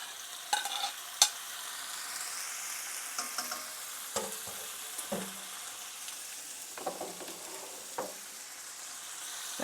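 Beef tips sizzling and frying in a hot pan, a steady crackling hiss broken by several sharp stirring scrapes and clatters, close and clear with no talking.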